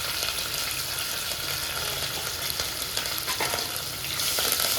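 Curry leaves hit hot oil in a pan for munagaku pappu, a steady loud crackling sizzle that runs throughout, with a few sharper pops near the end and no talking.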